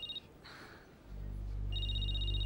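A telephone rings in a Turkish drama scene, two short electronic tones separated by a quiet gap, then a low hum builds up beneath the returning ring.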